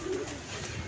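Pigeons at a pigeon club give a short, soft coo close by, set against a low background murmur.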